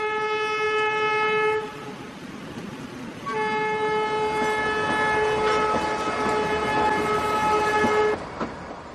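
Train on the Kalka-Shimla mountain railway sounding a long horn blast, a brief pause, then a second sustained horn over the rumble of the moving cars.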